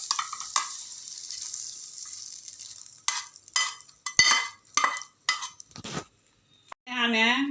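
Cooked mango chutney scraped out of a pan into a bowl, with a soft steady sizzle, then several short, close spoon scrapes and clanks, and a brief ringing tone at the end.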